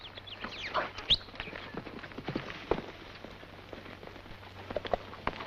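Horses' hooves clip-clop in an irregular patter in a western film, with sharp scattered knocks over a steady low hum and background noise; no speech is heard.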